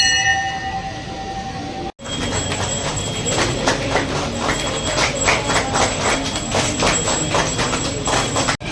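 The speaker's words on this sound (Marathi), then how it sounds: "मित्रांनो आता मेट्रो आलं." A metro train pulls into a busy station near a temple in Thane, a steady loud rumble with rhythmic wheel clatter over track joints, running continuously after a brief cut.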